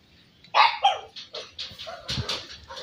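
Beagle, shih tzu and golden retriever puppies bark and yip close by in a quick string of short, high-pitched calls with brief gaps, with no talking.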